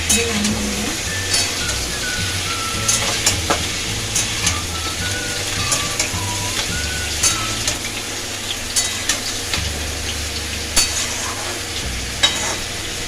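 Fish curry fries in a pan with a continuous close sizzle and hiss, punctuated by repeated scraping and clinking of a spatula stirring against the metal, no talking.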